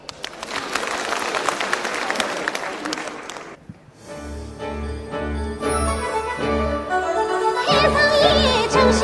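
An audience applauds to welcome Dong Jianhong, a Fu-school huadan Yue opera singer from Shaoxing Xiaobaihua, on stage. Dense clapping lasts about four seconds, then fades out as instrumental opera music begins.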